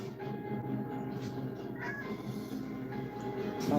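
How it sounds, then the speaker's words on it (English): A pet cat meows a few times indoors, moderately close, over a steady low background hum. "My cat."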